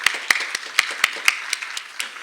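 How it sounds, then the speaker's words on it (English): Applause rings out from an audience at a film expo session: sharp, fairly close hand claps in an irregular patter, with no talking over them. "let's give her a warm applause"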